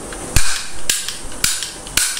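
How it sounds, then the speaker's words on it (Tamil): Four sharp, loud bangs of Diwali firecrackers go off at roughly even intervals, each a sudden crack that fades quickly into a short noisy tail. "போடு தேவாமா அந்த வெடி."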